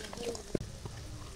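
Potatoes frying in a pan for mashed potato, a soft sizzle with one sharp stir or clatter midway, close and moderately quiet.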